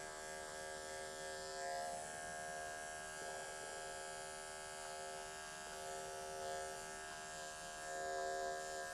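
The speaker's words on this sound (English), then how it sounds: "we're going to take our clipper, turn it over, just do a little digging right here" Quiet, steady electric clipper buzz with a tonal whine while trimming the paw pads of a Cavalier King Charles Spaniel, continuous with small swells in level and no voices.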